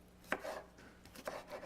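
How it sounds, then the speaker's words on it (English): A knife chops julienned bell pepper strips on a cutting board in a vegetarian kitchen, with a few crisp, irregular cuts spaced apart at close range. "I cut these in thin julienne, and then I basically chop them into thirds"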